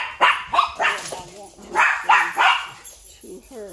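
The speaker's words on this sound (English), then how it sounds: "excuse my dogs, they think they heard my car." Several dogs bark repeatedly at a house, set off by the owner's car, sharp barks and yips in bursts under and between a woman's speech.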